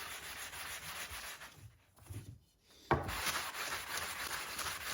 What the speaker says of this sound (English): we're going to work on getting this sanded down